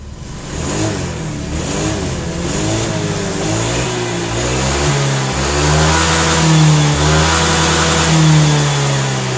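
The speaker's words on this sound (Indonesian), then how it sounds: "Jadi untuk putaran mesin dengan gas ini itu harus seirama ya." A car engine is revved again and again with the throttle, climbing and dropping in steady surges. It sounds close and loud, with no voices over it.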